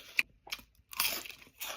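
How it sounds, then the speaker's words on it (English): Crunching bites of fiery chili ramen noodles, a few sharp close crunches and chewing bursts spread over a couple of seconds, fairly quiet with no talking. "I love the crunch."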